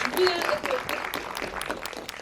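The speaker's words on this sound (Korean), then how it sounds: "박수 부탁드립니다." A fan-event audience for actor Hwang Jung-min claps, a moderate scattered applause that tapers, while a voice talks over the clapping.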